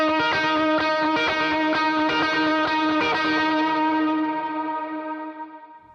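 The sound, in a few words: electric guitar verse tone, picking part, King of Tone boost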